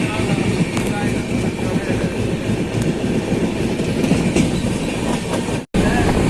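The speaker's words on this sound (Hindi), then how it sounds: "तो देखिए हमारी ट्रेन सुल्तानगंज से खुल गई है" Kiul-Malda intercity passenger train heard from inside a carriage while running, with a loud, steady rumble and rattling wheel noise throughout, a brief dropout near the end.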